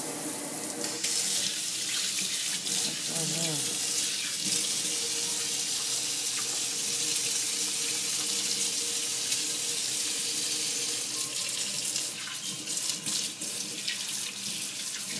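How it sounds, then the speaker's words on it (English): Tap water runs steadily into a sink as hands are washed during pork chop prep in a home kitchen, a continuous close, even splashing rush that lasts throughout with no talking. "I got to wash my hands"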